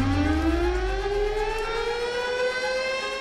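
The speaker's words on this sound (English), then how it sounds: "I thought it was a tornado siren." A tornado siren wails alone, loud and steady, its pitch sliding upward as it winds up over a few seconds.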